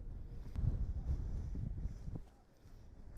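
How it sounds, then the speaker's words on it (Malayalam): Strong wind buffets the microphone at a campsite in Scotland, a low, gusty rumble that is heavy for two seconds, then eases off. "കാറ്റ് രക്ഷയില്ല, നല്ല തണുപ്പുണ്ട്"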